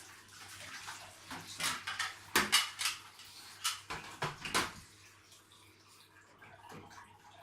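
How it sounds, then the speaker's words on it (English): Water splashes irregularly as a plastic hamster cage tube is rinsed under a running hot tap, with bursts of splashing and knocking that swell in the middle and fade toward the end. "you just run them under a bit of water, a bit of hot water, just to make sure that all the suds, all the soap and everything is actually off"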